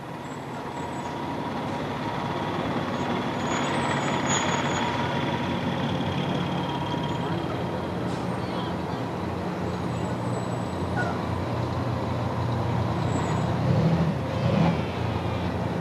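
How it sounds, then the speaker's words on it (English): Fire trucks rolling past in a town bicentennial parade, a steady low rumble of heavy diesel engines with faint air brake hisses and street ambience, moderately distant and continuous. "I didn't know we had so many fire trucks."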